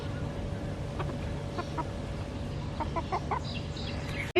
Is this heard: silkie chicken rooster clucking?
yes